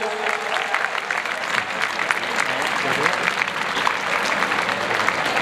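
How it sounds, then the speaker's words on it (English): A crowd at a conference and prize distribution ceremony claps loudly and continuously, a dense, even wash of applause that holds steady throughout. "So give this gentleman a warm round of applause, Mr. Atif Jamil Khan."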